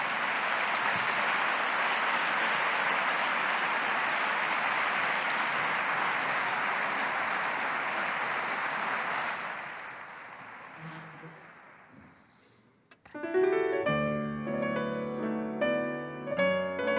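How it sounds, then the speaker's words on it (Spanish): An audience at a corporate social responsibility event in Aragón breaks into sustained, dense applause for about ten seconds, fading out before music begins. "les pido ya un fuerte aplauso"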